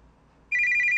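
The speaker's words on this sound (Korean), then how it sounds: "전화 왔어." A telephone in a Japanese-style Tsukuru horror game starts ringing about halfway through, a loud electronic warble that cuts in suddenly after near silence and continues steadily to the end.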